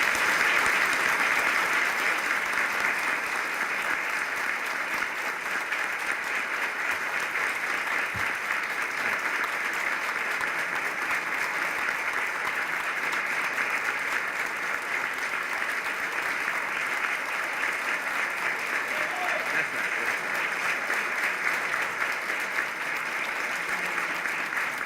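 A conference audience gives a long, sustained round of applause after a talk, an even wash of many hands clapping that holds at a strong, steady level throughout with no voices heard.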